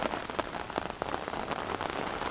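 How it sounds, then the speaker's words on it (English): Heavy rain drums on a fishing bivvy in France, a dense, steady patter with sharper individual drops, heard close from inside the shelter. "you can sit in the rain, in a nice, dry, warm bivvy, and not get your rods out"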